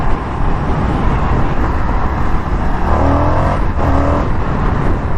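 An Indian FTR1200 motorcycle with carbon fiber accents accelerating hard toward its roughly 9,000 RPM redline through two gears, a loud continuous engine roar with rising tones and a brief shift.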